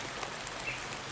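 Steady rain falls outdoors during a heavy storm, a continuous broadband hiss of drops with faint scattered pattering, quiet and even throughout with no voices.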